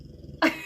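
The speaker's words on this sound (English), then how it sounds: "That is my dog. Yes, that is literally my dog." A pet dog lets out a short, loud growling whimper, a sudden burst after low rumbling, lasting well under a second.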